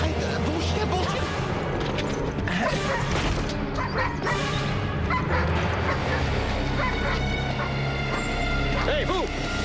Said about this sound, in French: Mais arrête, bon chien, bon chien.